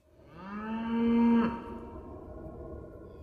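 A single cow gives one long, rising moo close by, swelling then cutting off, followed by quiet background.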